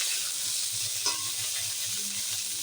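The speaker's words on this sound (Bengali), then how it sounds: "আর এখানে ভাজা হচ্ছে কাঁচকলা আর আলু।" Raw banana and potato pieces sizzle steadily in hot oil for vegetarian shukto, a dense continuous hiss broken by a brief scrape partway through, with no talking.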